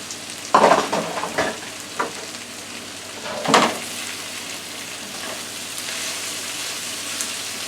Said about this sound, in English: now I'm going to add the broccoli